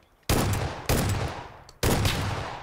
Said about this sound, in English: Sniped him with a shotgun